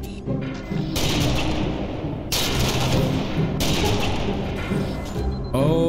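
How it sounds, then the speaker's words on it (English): Gunfire in a Halo-style shooter remade to play like DOOM comes in long, dense bursts of rapid shots with brief pauses between them, loud and close. "Who is he shooting at?"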